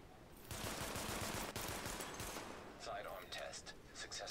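Rapid sidearm pistol fire in The Division, a dense run of close shots that is steady at first, then breaks into scattered sharper cracks toward the end, with a voice faintly mixed in.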